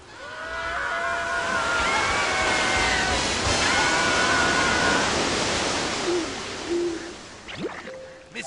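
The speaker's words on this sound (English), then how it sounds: "Where is the point of entry of said tidal wave of water?" A cartoon tidal wave of water gushes in a broad, roaring surge that swells and holds, then tapers off, with whistling tonal effects on top and a few clunks near the end.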